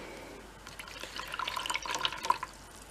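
Paintbrush swirled and dabbed in a small pot of water while mixing blue and red watercolors, giving light close-up sloshing and dripping splashes that grow busier partway through, with no talking.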